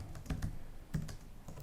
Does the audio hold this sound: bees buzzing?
no